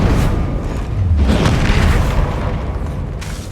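A fire-explosion spell cast in a wizarding action video game bursts with a loud, deep boom that rolls on through a sustained rumble for several seconds.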